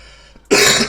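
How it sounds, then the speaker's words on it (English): A harsh, loud cough from someone with allergies bursts out abruptly midway and rings on to the end, following a quiet stretch. "my allergies are so bad right now that I got the craziest cough"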